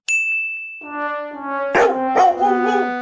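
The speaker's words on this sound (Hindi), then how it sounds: "घर पर आने वाले दुश्मनों पर ही भौंकेगा ये।" A cartoon dog in an animated comedy lets out two short, sharp barks close up, following a sustained whining, ringing tone.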